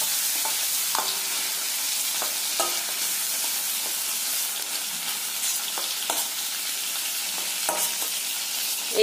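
Potato pieces frying in oil left over from frying prawns, with a constant close sizzle and occasional light clicks of a stirring spoon against the pan.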